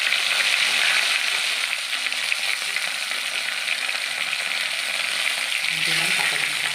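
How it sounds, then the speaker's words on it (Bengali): Cumin seeds and whole bay leaves fry in hot mustard oil in a kadai, a continuous near sizzle with an even hiss and light stirring scrapes and no voices. "কড়াইয়ে সর্ষের তেল দিলাম, ফোড়নে সাদা জিরে দিলাম"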